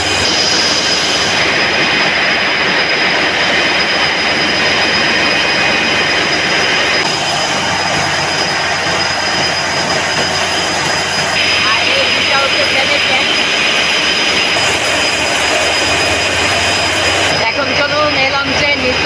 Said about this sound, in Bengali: এখন চলুন জাকির সম্রাট 3 লঞ্চে ইঞ্জিন রুমে যাই।